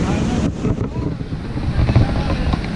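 Breezy coastal wind at Juhu beach, a steady broadband rush with low rumbling gusts that swell and ease over a few seconds, heard alone with no talking.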